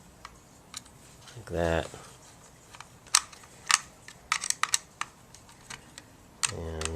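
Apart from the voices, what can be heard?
screwing the back cover onto an Instamatic 100 camera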